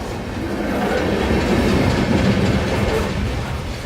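A long coal train rolls by close in Lakeland, Florida, a steady loud rumble of freight cars with rhythmic wheel clatter throughout.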